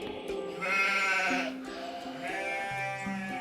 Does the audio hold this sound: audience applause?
no